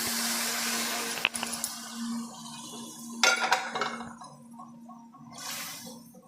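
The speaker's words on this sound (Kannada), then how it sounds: "ಈಗ ನಾನು ಅಂಥ ಬೋಟಿನ ನೀರು ಸಮೇತವಾಗಿ ಸೇರಿಸ್ತಾ ಇದ್ದೀನಿ" Cooked mutton tripe and its cooking water are tipped into a pot, giving a splashing pour with metallic clinks of utensils against the vessel and a steady background hum.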